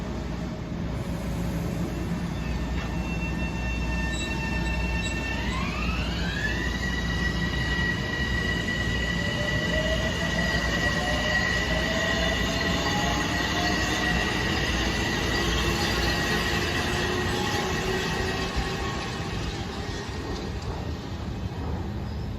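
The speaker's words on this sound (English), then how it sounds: "this is train 443 to Greystone, local train" A Metro-North local train, number 443 bound for Greystone, passes the Riverdale station. Its wheels squeal and rise in pitch as it goes by, set against a steady loud rumble of rail noise that lasts the whole time, with no voices.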